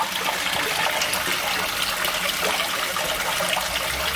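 Water pouring steadily through a modified koi pond filter box overflow, a continuous close rushing trickle with no pauses, heard alone.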